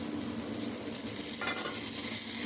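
Mustard seeds, cumin and urad dal tempering in hot oil for coconut chutney crackle and sizzle continuously up close, a steady bright frying hiss that swells slightly louder toward the end, with no voices.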